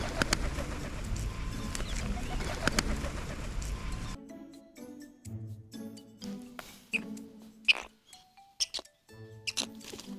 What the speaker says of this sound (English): Birds, lots of birds.